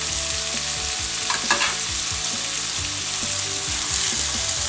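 Roughly chopped tomato frying in oil for a minced meat curry, a dense, steady sizzle with a brief stirring clatter partway through, heard up close with no talking.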